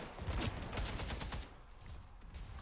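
Gunfire in the multiplayer shooter Splitgate 2: rapid bursts of shots crackle for about a second and a half, then fade into quieter background game noise, fairly soft overall with no talking.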